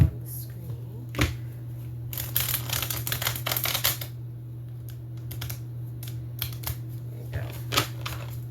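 Oracle cards are shuffled by hand in soft, uneven papery bursts and taps over a steady low electrical hum, fairly close and without speech.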